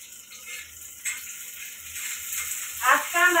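Chillies fry in hot oil in a pan on a home stove, sizzling and crackling steadily with a few louder spits and a short voice near the end.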